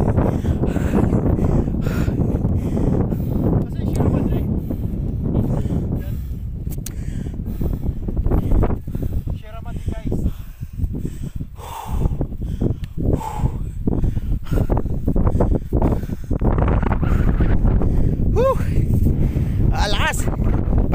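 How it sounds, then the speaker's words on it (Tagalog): Strong wind buffets the microphone outdoors on a hillside farm, a constant heavy roar and rumble throughout, with people talking and calling out under the gusts. "napakalakas ng hangin"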